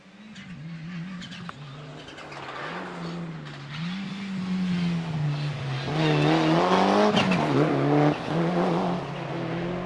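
A Mark II Ford Escort rally car with a Smith & Jones 2.5 litre engine approaching along a straight at a time trial, its engine note rising steadily from distant to louder and closer, with pitch shifts as it revs.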